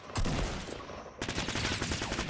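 Rapid, loud gunfire in Fortnite rattles out in dense bursts, a brief lull near the middle before a fresh volley of close shots takes over.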